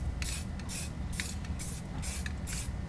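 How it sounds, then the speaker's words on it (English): Short hissing bursts of spray paint coat fresh welds on a Havoc Offroad 4.5-inch lift kit for a 2014–2017 Chevy GMC 1500 4WD, five or six quick rhythmic sprays close up over steady shop hum. "we're going to just go ahead and spray paint it"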